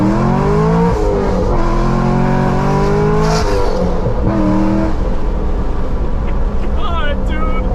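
A Chevrolet C6 Corvette Grand Sport V8 pulls hard through the gears, its loud engine note climbing in pitch with brief drops at each upshift, heard from inside the car with a voice speaking over it.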